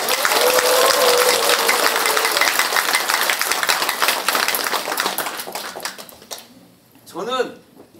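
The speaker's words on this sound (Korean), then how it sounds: "우리 인재근 큰 누님께 큰 박수 부탁드리겠습니다" Audience applause at a campaign office opening ceremony, loud dense clapping for about six seconds that then thins and fades, with a brief voice rising at the end.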